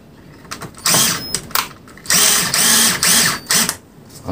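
A screw on a Daikin air-conditioner compressor being tightened to 3.5 torque, heard as close, loud bursts of metallic ratcheting clicks in short repeated runs with brief pauses between them.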